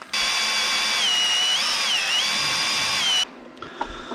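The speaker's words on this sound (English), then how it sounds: "I'm gonna go ahead and start drilling up my plates that'll go over it." Power drill pilot-drilling metal fender mounting plates: a steady high-pitched whine that wavers slightly as the bit bites, running about three seconds before cutting off, followed by faint clicks.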